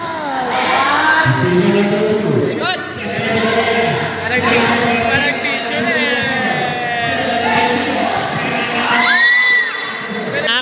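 Crowd at a volleyball finals cheering and shouting, a loud, continuous wash of voices with whoops and yells that swell and dip, plus a few bouncing ball thuds.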